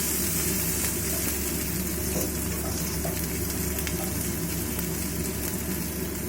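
Green chilies hit onions already frying in hot oil, making a continuous loud, close sizzle that stays even throughout with a low background hum and nothing else over it.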